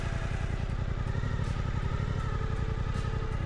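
A Suzuki GSX-8R motorcycle idles in gear with no throttle, a steady close low engine thrum with a faint mechanical clatter running evenly throughout.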